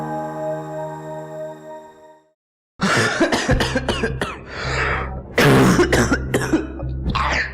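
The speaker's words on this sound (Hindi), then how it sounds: "कितनी खांसी क्यों हो रही है?" Several harsh coughs come in bursts after a brief silence, close and loud, with a steady low hum running underneath.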